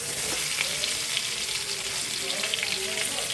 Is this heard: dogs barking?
no